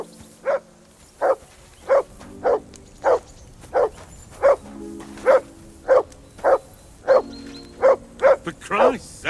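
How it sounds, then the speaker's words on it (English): Dog barking in the medieval RPG Kingdom Come: Deliverance 2, a steady series of about a dozen loud, evenly spaced single barks, close by, with a voice speaking briefly near the end. "Henry! Call off that damn dog"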